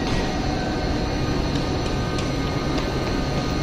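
A train carriage rolls past at a station, a steady loud rumbling roar with faint metallic clicks from the wheels, continuous and near, with no voices.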